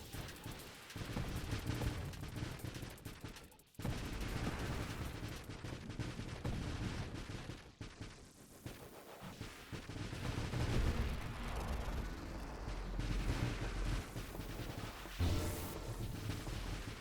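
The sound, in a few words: weapons firing in a video game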